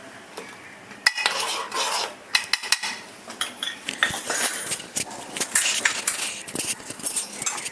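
A spoon scrapes and clinks around a pan as custard for a fruit custard is stirred, irregular close metallic rubbing and taps continuing steadily with no voices.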